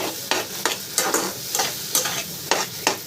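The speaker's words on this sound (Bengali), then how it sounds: "মুসুর ডালটা দিয়ে এবার আমি মশলাটার সাথে ভালো করে মিশিয়ে দেবো।" Boiled masoor dal is stirred into a spice mixture in a pan with a spoon, giving regular scraping, sizzling strokes about every half second, close and steady, with no talking.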